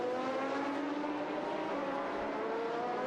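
A Corvette race car runs down the back straight at the 2005 FIA GT Championship round in Bahrain, its engine a sustained, rising high-pitched drone heard from a distance without any nearby voices.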